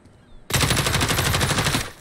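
A sustained burst of rapid automatic video game gunfire, fired from the hip, kicks in suddenly after a quiet start and rattles on loudly and evenly for over a second before cutting off.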